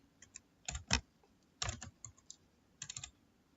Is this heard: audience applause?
no